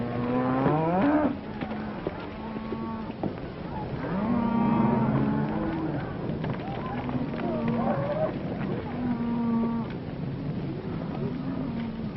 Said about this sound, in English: Hey, Joe, get those cattle watered down right away.